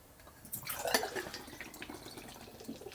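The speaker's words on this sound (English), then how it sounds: "Just do a hard pour and see how we go." Dark ale hard-poured into a large glass makes a quiet splashing gush that peaks early, then settles into a soft fizzing trickle as foam builds, heard faintly and close with no talk.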